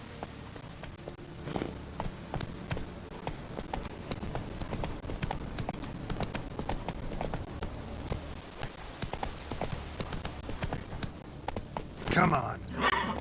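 Horse hooves clip-clop at a steady walking gait in The Witcher video game, with a rider's voice speaking over the hoofbeats and a brief louder burst near the end.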